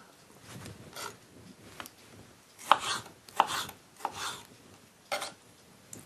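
Tomatoes are roughly chopped with a knife on a board, giving several irregular scraping, thudding cuts spread across the moment, moderately close and fairly quiet, with no talking.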